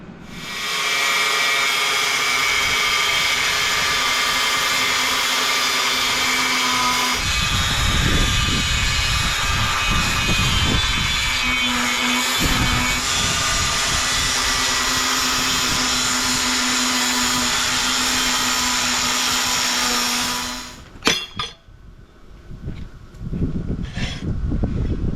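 A power tool cutting metal pieces for a welding project building a rocket stove, a loud continuous high-pitched grinding whine running for about twenty seconds with slight pitch shifts, then stopping abruptly into quieter clatter.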